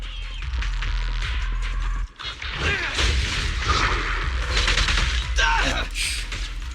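Gunfire and heavy booms in the video game Zenless Zone Zero, a dense, loud barrage of blasts and impacts with a short break partway, while a voice is heard now and then.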